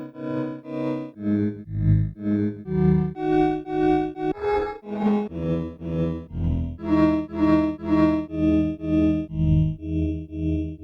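A guitar riff run through a Microcosm effect adding bit reduction, gritty and lo-fi, its notes repeating in steady chopped pulses that sound crushed and distorted, loud with no voices.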